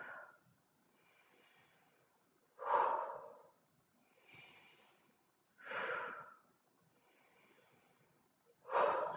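Deep breaths during a gentle shoulder-stretching exercise: slow rhythmic cycles of audible inhales and forceful exhales, four loud breaths with quieter ones between, close and alone without talk.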